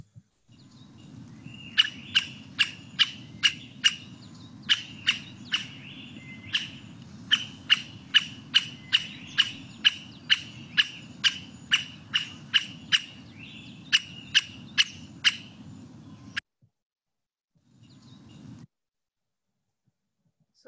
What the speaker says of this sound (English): So that's the Himalayan woodpecker, one of the most easily seen woodpeckers in the Himalayas.